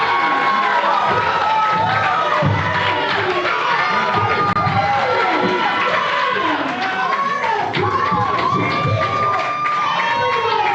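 A large crowd at a grappling event roars and cheers continuously for fighter Lifeguard Ross, loud dense shouting and whooping with voices calling out throughout.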